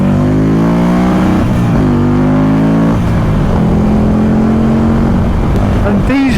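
A Buell XB9 motorcycle revs hard while being ridden on twisty roads, its loud engine note climbing and dropping through gear changes with a strong, close, continuous drone and wind rush.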